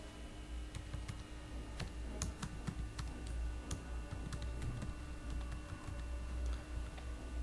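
Keys on a computer keyboard are tapped in a quick, uneven run of soft clicks, faint and close, over a low steady room hum.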